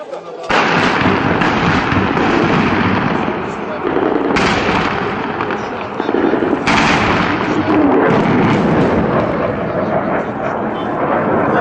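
An aircraft airstrike drops bombs on Ras al-Ayn in November 2012, producing loud, booming blasts that rumble on in sustained waves, with fresh explosions bursting in near the start and again around the middle, while people talk faintly.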